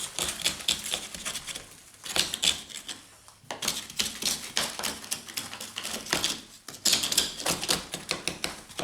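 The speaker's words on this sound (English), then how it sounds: "you can probably use your screwdriver or your scraper. Take it right back to the brick." A screwdriver or scraper rakes a crack in a plaster wall back to the brick, a series of rapid scratchy scraping and tapping bursts broken by short pauses, close by, with no voices.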